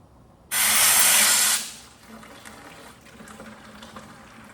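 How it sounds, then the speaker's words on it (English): A leaf blower pushes air into a slit cut 2 inches from the end of a drain hose, starting a siphon to empty water from a CNC plasma table: a loud, steady broadband rush lasting about a second, then a fainter lingering hiss and trickle. "The Venturi effect creates the suction in the hose by blowing air that way to start the siphon."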